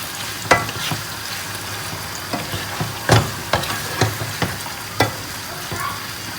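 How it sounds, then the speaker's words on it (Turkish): Meat fries in a pan for a home-cooked eggplant kebab, a continuous sizzle punctuated by several sharp, separate knocks and scrapes of stirring, with no talking. "Etleri aldım. Şöyle güzelce bir kavuralım."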